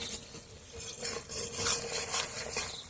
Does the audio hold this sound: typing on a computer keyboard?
no